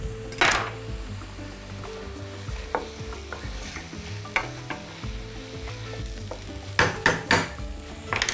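Finely chopped ingredients and meat frying in a pan, a continuous sizzle broken by spatula scrapes and clinks against the pan, with a cluster of sharper knocks near the end, close and with no talk.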